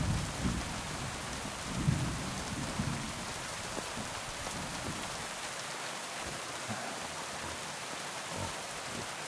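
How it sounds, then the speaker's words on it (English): Rain and thunder in the video game Kingdom Come: Deliverance 2: a dense, steady hiss of rainfall with a low rolling rumble of thunder swelling early on before easing back beneath the constant downpour. "Ooh, that's thunder."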